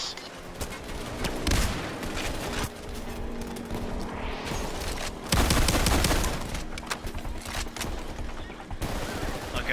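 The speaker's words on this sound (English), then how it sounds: "I hear the other SWAT turrets" SWAT turrets in Payday 2 fire in long rattling bursts, loud and near, with heavier surges partway through amid chaotic game noise.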